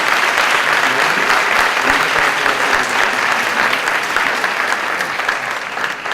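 Loud, sustained applause from an audience at a book presentation honours the Orfeó choir master, a dense, steady wash of many hands that stays near and even for the full stretch and fades only slightly at the end.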